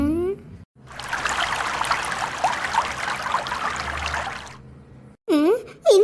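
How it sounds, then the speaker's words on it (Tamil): Steady trickling water running in a bathroom, a cartoon sound effect lasting several seconds, bracketed by brief animated voices before and after. "என்ன ஏதோ தண்ணி சத்தம் கேக்கு?"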